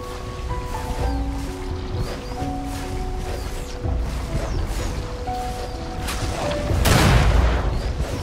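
A bomb blast in the video game Ori and the Will of the Wisps, a loud broadband burst near the end over layered game music and effects.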